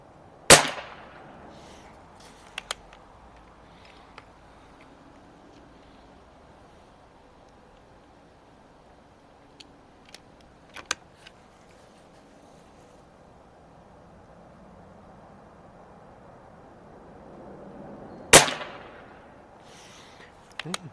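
Umarex Iconix .22 caliber budget PCP air rifle firing at a 25-yard outdoor range, a few isolated sharp cracks spaced far apart with quiet ambience between them.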